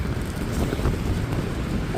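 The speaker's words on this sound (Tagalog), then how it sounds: "Grabe lakas ng hangin." Strong wind buffets the microphone at a motorcycle campsite in Malico, Pangasinan, a steady, loud roar of gusts rushing and rumbling throughout with no pause.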